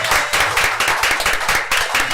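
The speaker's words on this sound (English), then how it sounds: "Give Roosevelt a bigger applause," Applause at a city commission meeting, loud and close, with individual claps heard in a quick, fairly regular rhythm throughout the brief burst.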